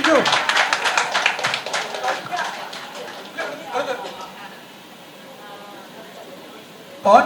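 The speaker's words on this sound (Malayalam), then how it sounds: "കൈയടിക്കൂ പ്ലീസ്, കൈയടിക്കൂ." Clapping from an audience at a birthday party, dense rapid claps over the first few seconds with a voice speaking over them, fading to a softer murmur before a brief loud burst at the end.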